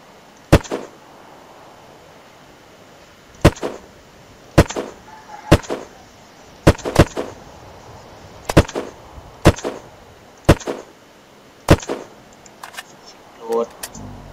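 Single gunshots ring out in the game Unturned, about a dozen sharp separate cracks spaced a second or more apart over quiet background, fairly loud and close.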